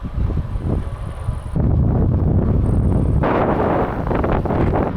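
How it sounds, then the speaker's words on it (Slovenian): Strong wind buffets a DJI Osmo Action 4 camera's microphone, worn hung around the neck while cycling in Austria, with heavy low rumbling gusts that surge louder midway and never let up. "Tukaj kar precej močno piha"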